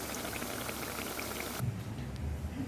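Corn vadas (mokkajonna garelu) fry slowly in oil over a low flame, making a dense, continuous bubbling sizzle that drops to a quieter, lower crackle partway through.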